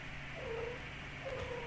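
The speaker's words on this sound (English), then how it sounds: "I have a kitten visiting me right now" Two soft, brief meows come from a kitten indoors, spaced about a second apart. They are faint against a steady background hiss, with no talking.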